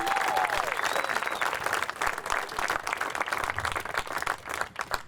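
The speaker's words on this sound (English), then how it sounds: "Y'all need to give James a round of applause." Crowd applauding a college basketball coach at an awards ceremony honoring tournament wins: sustained, dense clapping with a few whistles and faint voices mixed in.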